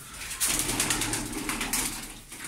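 Bursts of rapid wing flapping from Mosul pigeons, close and fairly loud, in several flurries over low rumbling background noise.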